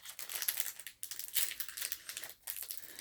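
A Duel Masters DM02 booster pack wrapper is torn open and crinkled, several quiet close crackling bursts separated by short pauses.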